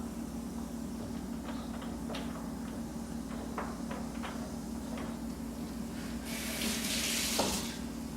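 A tap runs steadily while metal items are rinsed under it after a reaction in hydrogen water, giving a constant close splash with small clinks, and the water swells louder near the end.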